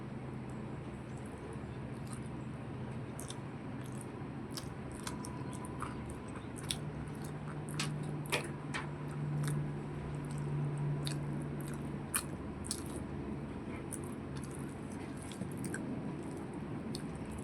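Soft, wet chewing and squishing of mashed boiled taro and lentils, eaten by hand at a close microphone, steady and quiet throughout, with no talking.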